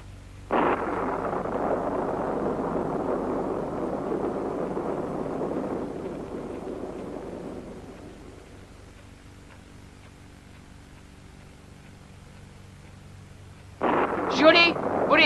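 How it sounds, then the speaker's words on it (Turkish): A long rumbling roll of thunder from a lightning storm in a 1955 western film swells loudly, holds for several seconds and slowly fades, followed by a brief sharp burst near the end. "Kurt, şimşek öküzleri korkutuyor"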